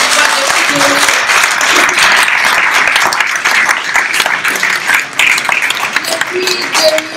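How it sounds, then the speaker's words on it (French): Striking hotel workers applaud together in a sustained, dense burst of clapping that stays loud and steady throughout, with cheers and voices mixed into the crowd noise. "Si vous pouvez applaudir"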